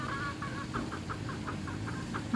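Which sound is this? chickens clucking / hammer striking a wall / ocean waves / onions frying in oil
chickens clucking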